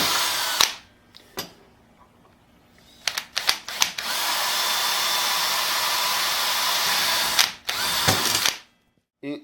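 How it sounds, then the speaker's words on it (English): A power drill with a 1/16 bit bores a pilot hole in a bicycle frame, starting with short bursts of whirring, then a sustained high whine for several seconds, ending in a few brief pulses before stopping. "take a 1/16 drill bit and drill a pilot hole"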